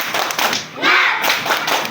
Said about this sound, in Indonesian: Lagi satu kali, tepuk semangat.